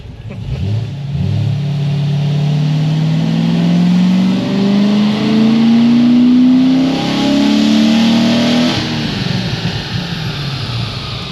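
A Stage 4 Corvette C6 Z06 engine roars on a dyno, climbing steadily in pitch through a single loud pull to about 4,800 rpm, then dropping off as the throttle closes.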